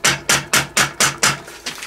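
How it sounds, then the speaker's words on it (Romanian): Rubber mallet pounding a seized 80cc bicycle engine, seven evenly spaced, loud, close blows with sharp dull thuds and no voices. "Am adus eu un ciocanel."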